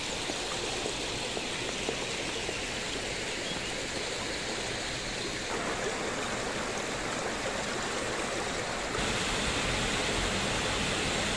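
Water pouring and rushing steadily at the Royal Dam of the Alhambra in Granada, a continuous broadband hiss of flowing water with no voices, shifting slightly in tone partway through.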